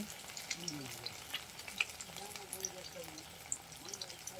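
Bhola fish chops frying in oil in a wok, a faint, steady bubbling sizzle with small crackles, with a voice talking over it.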